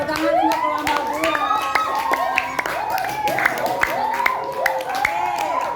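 Classroom of fifth-grade pupils clapping for a presenting group, a dense, steady patter of many hands with voices and chatter mixed in throughout.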